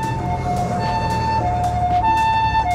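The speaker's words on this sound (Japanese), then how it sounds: "救急車来たから、ちょっと左に寄りますね。" A Japanese ambulance siren wails loudly and close in a repeating alternating two-tone pattern, heard from inside a car as it pulls to the side of the road.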